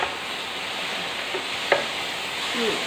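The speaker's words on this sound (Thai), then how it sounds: "เติมน้ำนิดหน่อยค่ะ ก็ผัดไปอีก" Glass noodles and shrimp stir-fried in a pan with a splash of water make a steady close sizzle, broken by a few faint scrapes and a brief clink of a utensil against the pan.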